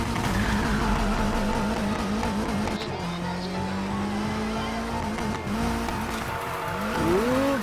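Nissan 350Z drifting on a track in Need for Speed Heat: a loud, continuous engine roar with rising and falling revs and wavering tire squeal, steady throughout with no talk.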